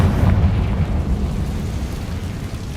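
A Confringo blasting spell explodes in Hogwarts Legacy, a loud, booming burst that rumbles and decays over a few seconds, heavy and close with no voices.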